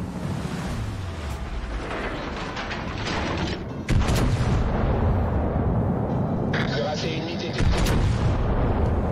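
A naval gun salvo from the French battleship Republique in the video game World of Warships Legends booms heavily amid rumbling battle noise, with a sharp, loud blast partway through and sustained roaring afterward.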